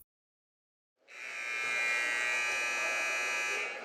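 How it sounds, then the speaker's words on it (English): A basketball game buzzer blares to end a timeout in a gym: one long, loud, steady electric buzz starting after a second of silence and holding to the end. "Buzzer sounds, and that's the end of the timeout."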